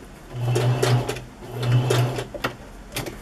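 A home sewing machine stitches a paper junk journal collage. It runs in two short whirring bursts with a steady motor hum and rapid needle clatter, close up, with small clicks and handling sounds between the runs.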